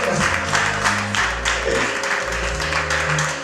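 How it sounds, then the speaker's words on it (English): At a charity launch event, an audience applauds over low music with sustained bass tones. The clapping is steady and fairly loud, with irregular bursts of louder claps throughout. "Give him a round of applause."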